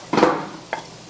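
Onions and meat frying together in a pan for Philly cheesesteak, with a burst of sizzling and stirring scrape near the start and a second short clatter of utensil against pan later.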